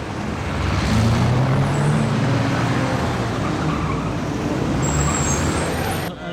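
Several vehicles pull away together on a blocked-off street during a film shoot, giving a steady, broad rumble of engines and tyres that holds for several seconds and drops off at the end.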